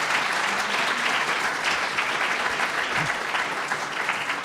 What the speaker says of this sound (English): Can we give them a big warm round of applause?